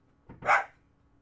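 A dog lets out a single short, sharp bark, fairly faint and distant in an otherwise quiet room.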